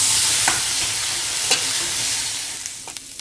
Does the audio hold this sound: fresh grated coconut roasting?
yes